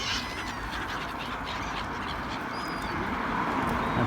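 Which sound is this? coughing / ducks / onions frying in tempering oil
ducks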